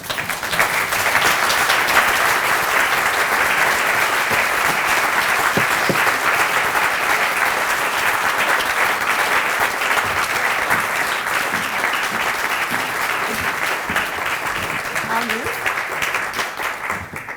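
Audience applause after an inaugural university lecture, sustained loud clapping from a full hall that continues evenly for the whole stretch.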